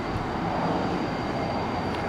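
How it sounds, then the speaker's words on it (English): Airbus A320 airliner taking off, a steady loud broadband engine roar heard from inside or close by, sustained and even throughout with no talk. "world's fastest A320 takeoff"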